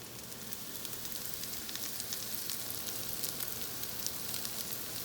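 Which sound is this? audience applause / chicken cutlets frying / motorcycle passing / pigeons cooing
chicken cutlets frying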